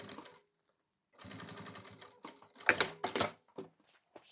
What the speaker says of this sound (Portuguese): direito com direito primeiro, passo uma costurinha de segurança